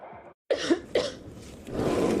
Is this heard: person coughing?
yes